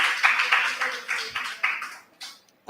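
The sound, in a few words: audience applause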